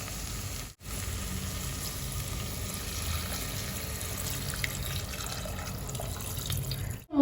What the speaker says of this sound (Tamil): இப்போ சிக்கன் குழம்புக்கு தேவையான அளவு தண்ணி சேர்த்துக்கலாம்.